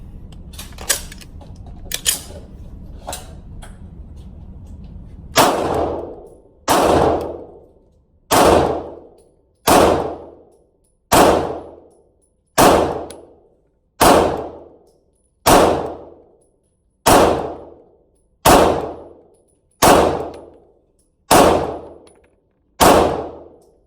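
Sig Sauer P320RX Compact pistol fired at steel targets: a few quick shots, then a slow, evenly spaced series of about a dozen loud, sharp cracks, each followed by a ringing clang from the steel that decays over roughly a second.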